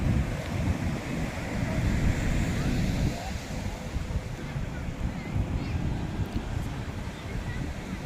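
Sea waves roll onto the beach at Puri in a continuous, heavy roar of surf mixed with wind.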